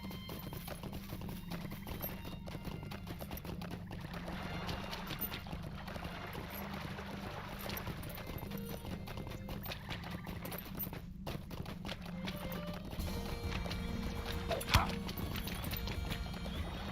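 Horse hooves clip-clop steadily at moderate volume within The Lord of the Rings Online as the rider travels back to Overhill in the Shire, set against a constant game ambience with no speech over it.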